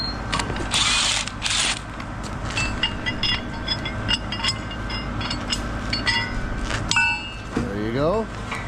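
A wrench works loose a pipe clamp on a concrete pump line, giving repeated metallic clicks and clanks over a steady mechanical rumble, with people talking nearby.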